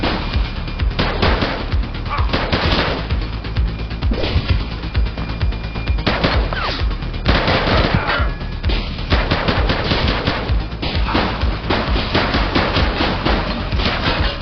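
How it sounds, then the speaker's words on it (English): Police gunfire in The Precinct video game: loud, dense bursts of rapid shots crackle continuously and close, layered with game effects and occasional voices. "Shots fired!"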